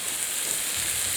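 Chicken sizzles in a frying pan while being cooked for stir-fried noodles, a steady close hiss with no breaks and no talking.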